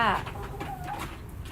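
Chickens cluck in short, scattered calls at close range, with a low background rumble and brief noises mixed in.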